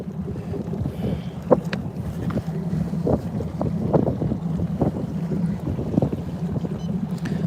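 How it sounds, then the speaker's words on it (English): Wind buffets a bass fishing boat on open water, a continuous rough roar of microphone wind noise with gusty surges and low rumble, no voices. "We might have to get out of this wind. I don't know if you guys can hear it or not."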